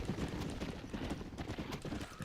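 Horse hooves clip-clop in Red Dead Redemption, a steady rhythmic trot of many quick hoof strikes at moderate level, heard alone.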